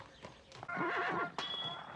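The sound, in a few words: horse neighing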